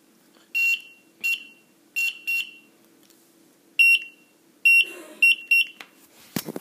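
A cheap 9V battery powered buzzer gives short, shrill electronic beeps, about ten in all, some single and some in quick pairs, with a small clatter near the end.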